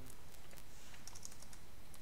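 Keys clatter on a new computer keyboard during a coding session, a faint run of quick irregular clicks over a low background hum.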